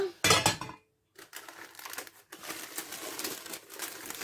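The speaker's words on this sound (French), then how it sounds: "c'est de retourner le gâteau sans en mettre partout et sans se brûler" An apple cake is turned out of a frying pan with a sharp clatter of pan and utensil, a brief pause, then shuffling, scraping handling noises close by.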